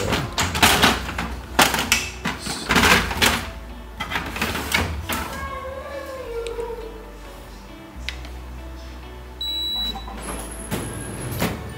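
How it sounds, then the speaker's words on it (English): Paper being loaded into the drawer of a Canon iR 2520 copier: a series of loud clattering thumps and sliding scrapes of the tray and paper stack, followed by quieter rustling and a brief high electronic beep near the end. "loading the drawer."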